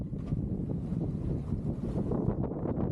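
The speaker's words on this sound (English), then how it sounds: "so about 20 knots of wind at the moment" Strong wind of about 20 knots roars across a sailboat at sea off the English south coast, making a constant low rumble with buffeting microphone noise that holds steady throughout and has no talk over it.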